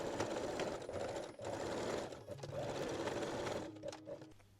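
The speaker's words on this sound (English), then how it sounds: "lock or backstitch all seams with straight stitch" A sewing machine backstitches the straight-stitch seams of a garter belt, its steady motor whir running almost continuously at close range with short pauses as the stitching direction reverses.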